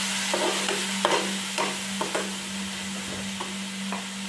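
Fish curry masala with tamarind water being stirred in a pan, a low continuous sizzle broken by repeated spoon scrapes at an uneven pace, close and with no voices.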